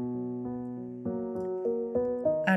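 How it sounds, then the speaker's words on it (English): Grand piano layered over music box and plastic nylon guitar in a pop song arrangement, soft, close notes stepping upward in a short gentle phrase, with no talk. "And then we added some grand piano on top of that, so that sounds like this"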